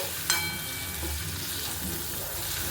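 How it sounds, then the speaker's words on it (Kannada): Capsicum and onion frying together in a pan, with a steady soft sizzle and a brief scrape of stirring near the start, close and moderately quiet with no talking. "ಕ್ಯಾಪ್ಸಿಕಮ್ಮು ಈರುಳ್ಳಿ ಜೊತೆನೆ ಫ್ರೈ ಆದರೆ ಚೆನ್ನಾಗಿರುತ್ತೆ"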